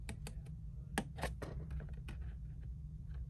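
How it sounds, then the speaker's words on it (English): Paper being cut along a score line for a scrapbook album page, a series of faint, crisp snips and scratchy strokes heard close up over a low background hum. "So I'm just cutting out that score."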